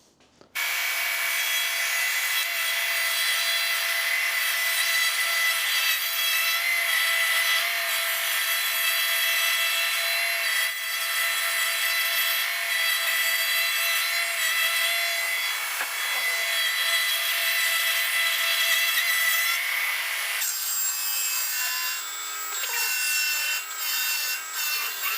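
Oak boards for a barn door run steadily through a cutting machine, a continuous loud whirring, rasping cut that holds for most of the stretch with a brief shift in tone near the end, no voices.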